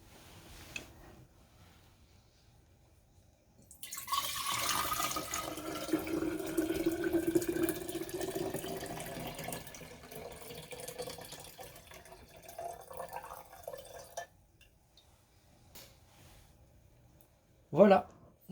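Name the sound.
glass jar being washed under running tap water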